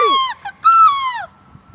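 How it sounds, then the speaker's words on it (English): Outdoors, a wild bird gives two loud, nearby calls with falling pitch, a short one followed by a longer drawn-out call, with faint rustling and ambient noise after. "It's a pretty neat bird."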